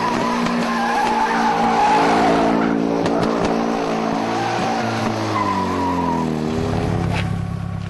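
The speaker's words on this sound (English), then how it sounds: "Nathan finishes off with a burnout, but listen to the engine note and you'll hear some problems" A car doing a burnout at a performance event, tyres squealing loudly and continuously while the engine runs rough and unevenly, its pitch rising and wavering before dropping near the end.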